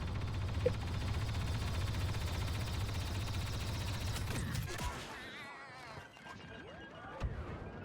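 Blaster and weapon fire in Star Wars Battlefront II, a steady wash of battle noise with sharp cracks and impacts near the middle, dropping off and thinning into scattered shots and bleeps toward the end.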